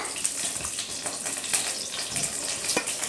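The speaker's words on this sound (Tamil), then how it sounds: "எண்ணெய் சூடாகிட்டு அடுப்பை குறைவான தணலில் வச்சு கத்திரிக்காயெலாம் நல்லா பொரித்து எடுத்துடலாம்" Slit brinjals frying in hot oil over a low flame, giving a soft, continuous sizzling and bubbling hiss with faint crackles.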